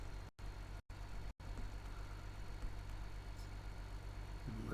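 A tractor engine idles steadily in Farming Simulator 15, a low continuous hum with a few abrupt dropouts near the start, no voices.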